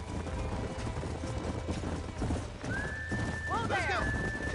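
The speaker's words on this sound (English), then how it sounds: "There's the horses! Get that lasso ready!" Horses in the Red Dead Redemption video game, galloping hoofbeats under a low rumble of movement, followed near the end by a loud, wavering neigh close by.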